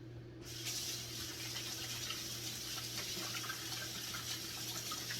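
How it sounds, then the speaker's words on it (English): Tap water runs steadily while hands are rinsed at a kitchen sink before roasting okra, a continuous close splashing wash that starts after a brief quiet moment and carries on evenly, with no talking. "We're going to give our hands a little rinse."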